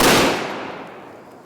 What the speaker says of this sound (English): The slow-mo of the switch showed more toroidal plasma vortices and even angrier explosions.